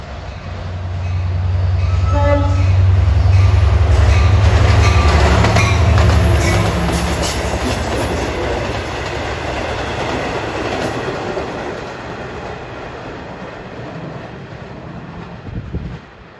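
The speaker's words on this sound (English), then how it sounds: "Approaching eastbound at 309 is train 554, Jamaica to Oyster Bay." An eastbound Long Island Rail Road train, Jamaica to Oyster Bay, roars through Elmont station at rush hour, with a loud low rumble and clattering wheels. A brief horn tone rings early on, then the rush fades to a steady rolling sound.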